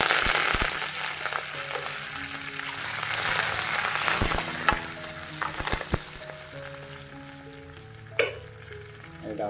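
Cumin seeds and curry leaves sizzle steadily in hot oil for a Goan potato bhaji, a continuous bright crackle with light background music running beneath it.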